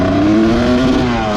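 A Honda CR250 two-stroke motorcycle engine revs under load while its carburetor is being tuned for rough, bogging running, giving a loud, close, steady drone whose pitch rises slightly, with no voices.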